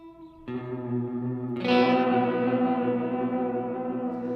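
A sustained guitar chord rings out through a Sloer Stereo Ambient Reverb pedal in random sample-and-hold mode, drenched in shimmering, shifting reverb, then a brighter strum swells in and the wash lingers and slowly fades.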